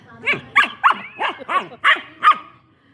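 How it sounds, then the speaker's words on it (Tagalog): Two dogs bark at close range in a quick run of about seven sharp, evenly spaced barks, loud and clear over an otherwise quiet background. "Ang iingay ni Milo. Ni Milo, ni Max."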